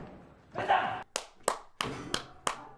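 A single person claps a few times after watching an action film scene: a muffled thump first, then four or five sharp, evenly spaced claps, close and fairly loud.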